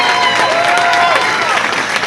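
Loud, dense applause from a crowd for a champion at an open competition, continuous throughout, with a faint whistle-like tone rising over the clapping.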